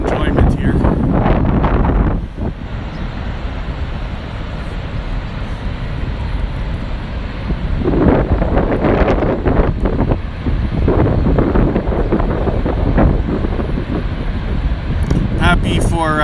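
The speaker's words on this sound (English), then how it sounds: "But it's windy" Strong wind buffets the microphone at Niagara Falls, Ontario, a constant loud roar with gusts throughout, with a voice speaking over it.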